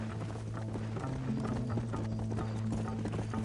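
A horse's hooves clip-clop in a steady rhythmic gait in the video game Red Dead Redemption, over a constant low hum and a busy game backdrop.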